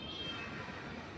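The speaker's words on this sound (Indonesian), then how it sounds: "Oh, ada kucing." A cat gives one short meow against a steady background hum.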